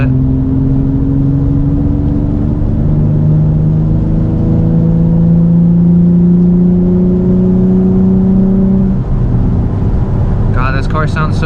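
A stock Nissan 350Z's engine pulls hard on wet backroads, a loud rising drone climbing steadily in pitch for several seconds before easing off, with a brief shift-like break near the end.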